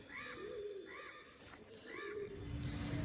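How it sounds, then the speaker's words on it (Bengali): Pigeons coo in a repeated soft, low rolling call, three or so phrases in a row, close by in a cold outdoor spot with faint background noise. "পায়রা।"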